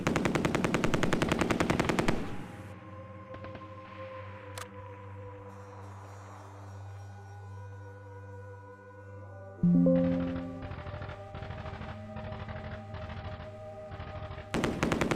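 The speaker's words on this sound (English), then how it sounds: "But the leader and the machine gun can fire." Machine gun fire from the WW2 turn-based tactical game Tigers on the Hunt: a dense rattling burst up front, then echoing mechanical tones, with a second loud burst starting near ten seconds and continuing under game effects.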